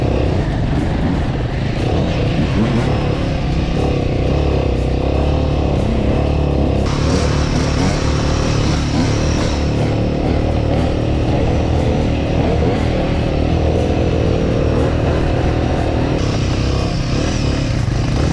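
A Royal Enfield Himalayan motorcycle on Bridgestone AX41 tyres rides along a public road from Tokyo, its engine droning loudly and continuously with steady wind rush throughout.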